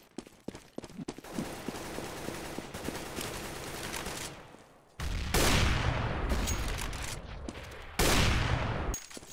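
Gunfire in a Counter-Strike match replay, with rapid bursts of shots followed by loud sustained blasts of heavy firing.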